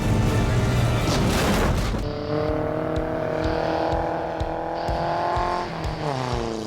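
Tow trucks race on an ice track on frozen Lac La Biche in Alberta, a loud rush of engines and spinning tires giving way to a steady, revving engine drone with repeated knocks and gear changes.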